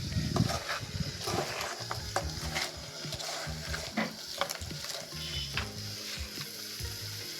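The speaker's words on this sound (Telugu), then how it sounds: "బాగా మసాలా కలుపుతూ" Crab curry with mango and masala being stirred in a pan, a soft sizzle broken by repeated scraping and clinking strokes of a utensil at an uneven rhythm, close and moderately quiet, with no speech.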